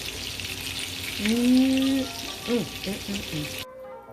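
Italian meatballs fry and brown in a hot pan with a steady, close sizzle, while a brief tonal scrape or squeak rises over the crackle before the sound cuts off.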